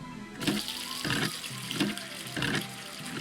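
A hand pump in a Nancy Drew game works water in rhythmic surges, about five gushing strokes in quick succession, each with a creaky, squeaky pump action, heard alone.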